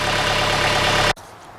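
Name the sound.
tractor engine running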